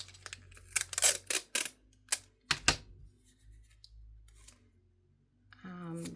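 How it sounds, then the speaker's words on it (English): Clear tape pulled and torn in several quick, crisp bursts, then pressed down to fix a seashell-bearing page in a Cancun travel journal, with faint room sound between the pulls. "So let's get this taped in."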